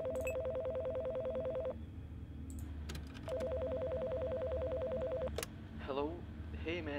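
Telephone in a horror video game night-shift setting rings in two long, loud electronic bursts separated by a short gap, with faint background game ambience and brief clicks.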